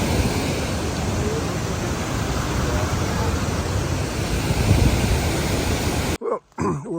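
Rushing water from a high river or waterfall beside a mountain trail makes a loud, dense, steady roar that fills the clip until it cuts off near the end, where a voice briefly speaks.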